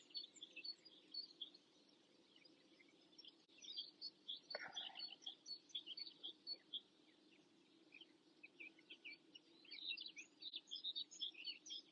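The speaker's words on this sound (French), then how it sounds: "Vous entendez les oiseaux? Quel bonheur." Birds chirping and singing in quick bursts throughout, light and bright against a quiet background hum, with one brief knock midway.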